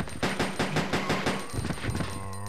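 Gunfire rings out during zombie fighting in Resident Evil Code Veronica X, a run of about eight regular, close, loud shots that stop near the end, leaving a faint tonal hum.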